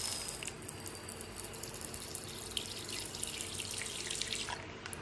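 Fresh water streams steadily into a female tarantula's enclosure, a soft continuous trickle and splash with faint dripping, close and quiet with no voices.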